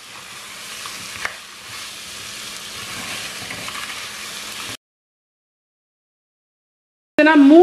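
Crab pieces frying in a pan for a spicy Sri Lankan crab curry, a steady hiss of sizzling with a sharp spoon knock early on. The sizzle cuts off into silence, then returns loud and close.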